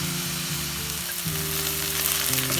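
Sliced onions sautéing with crushed ginger and garlic for an egg roast, a continuous close sizzle with a faint hum underneath.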